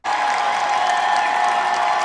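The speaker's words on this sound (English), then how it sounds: "Here is his ovation when he enters." A large political event crowd breaks into a sustained standing ovation as a speaker walks in, with dense, steady clapping and cheering at full volume throughout and no single voice standing out.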